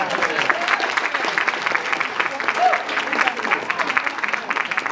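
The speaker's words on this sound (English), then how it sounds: "that's the applause I was hoping for" Audience clapping at a music Q&A event, a lively burst of applause heard close with some voices mixed into the crowd noise.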